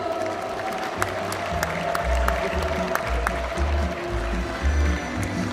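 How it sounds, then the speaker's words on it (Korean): Sustained applause from an awards ceremony audience in South Korea, a steady wash of clapping with low rumbling underneath, moderately loud and continuous. "여러분 다시 한 번 뜨거운 박수로 축하해 주십시오"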